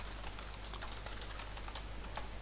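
Rapid, light clicking of computer keyboard keys while code is typed, a quick irregular patter over a low steady hum.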